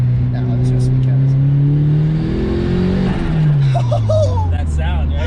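A turbocharged Mazda Miata pulls hard, its engine climbing in pitch through a gear before a shift and another rising pull, loud and close from inside the car, with people's voices faintly underneath.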